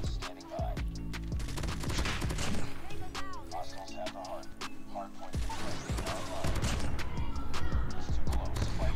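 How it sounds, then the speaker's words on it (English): Shotgun blasts and other gunfire in the mobile shooter Call of Duty Mobile, with loud booming shots in irregular bursts packed across the clip, mixed with game effects and a player's voice. "Ooh, that's a good shotgun kill."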